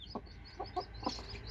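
A mother hen, a speckled hen with newly hatched chicks, gives a few short soft clucks spaced unevenly over a low steady background, coaxing the chicks to peck at feed.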